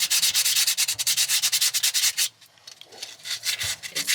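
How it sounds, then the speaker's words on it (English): Light sandpaper wrapped around a pencil scrubbing the pulleys of a 47-year-old sailboat engine, a fast rhythmic back-and-forth rasp, close and loud, then slower quieter strokes. "to clean the pulleys, I've got my old pencil and some light sandpaper, and I'm just wrapping it around"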